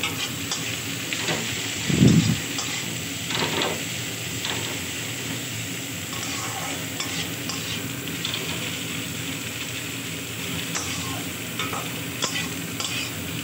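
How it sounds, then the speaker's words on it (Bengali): Steady sizzling of onions frying in a pan, with occasional stirring scrapes and one brief louder clatter early on; no one speaks. "পেঁয়াজটা একটু ভালোভাবে ভাজা হয়ে যাক।"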